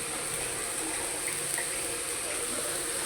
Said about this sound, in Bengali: ঢেলে দিলাম, পানি দিয়ে দিলাম।